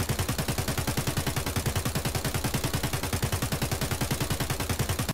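AK-74 loaded with BS ammunition firing full-auto in Escape from Tarkov, a loud, fast and steady unbroken burst of gunshots lasting about five seconds, close and alone with no talk.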